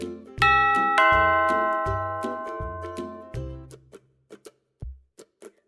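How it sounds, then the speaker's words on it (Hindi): A melodic doorbell chime in a Doraemon cartoon rings out with several sustained, bell-like tones, followed by a few short faint knocks or clicks as the ringing fades. "जब अचानक डोरबेल बजी"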